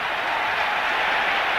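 A Test cricket crowd in India roars and applauds a boundary struck by Tendulkar, a loud, dense and continuous wash of cheering and clapping with no break.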